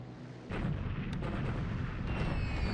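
Bombing hits land on an air base in the War in the Pacific strategy game, heard as a dull, low rumbling blast that starts abruptly and rolls on, quiet and muffled, without voices.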